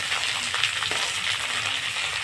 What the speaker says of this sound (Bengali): মটরশুঁটি সব কিছু দিয়ে খুব সুন্দর করে একটু ভেজে নেবো আমরা